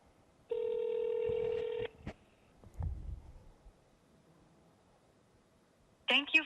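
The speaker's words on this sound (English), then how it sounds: "I'm going to try to attempt a live demo by placing a call using my phone" Smartphone placing a call to an automated financial service agent: a steady dial tone lasting over a second, a few soft thumps and handling noise, then a brief burst of connection tone at the end.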